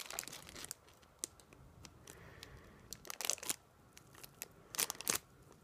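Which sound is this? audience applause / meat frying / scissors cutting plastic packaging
scissors cutting plastic packaging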